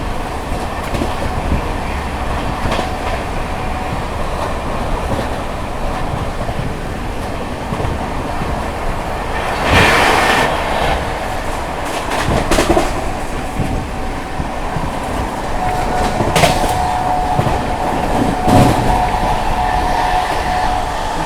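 Andhra Pradesh Express 20805 running during the monsoon, heard from inside a general coach: a loud continuous rolling rumble with rattling and clickety-clack, plus a few brief louder bursts as the train passes.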